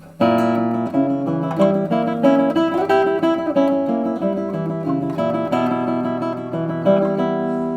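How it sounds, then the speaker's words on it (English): A tense fully diminished seventh chord sounds within a dramatic piano passage, repeated notes and harmonies pulsing steadily with no talking. "diminished triad plus diminished seventh equals a fully diminished seventh chord."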